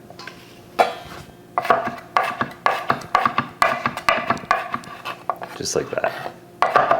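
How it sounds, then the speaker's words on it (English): A knife chops crushed garlic into small pieces on a cutting board, giving a run of quick, close, sharp taps in an uneven rhythm, with a person speaking briefly. "Here's our garlic. Give it a crush. We're just going to chop it in small pieces."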